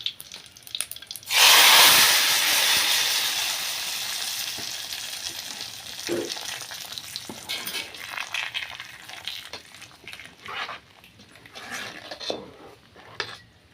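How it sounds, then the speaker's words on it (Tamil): Mustard seeds, dried red chillies and curry leaves hit hot oil for a sambar tempering, giving a loud burst of sizzling and crackling that eases into a steady, fainter fry with scattered pops and light utensil clinks, no voices. "கடுகு நல்லா பொரிஞ்சிருச்சு அது கூட வரமிளகா கருவேப்பிலை ரெண்டையும் சேர்த்துக்கிறேன்"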